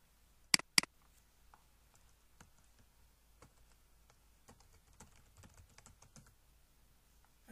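Quiet tapping on a computer keyboard while logging into business software, with a couple of sharp louder clicks first and then scattered light keystrokes, close by with no talking.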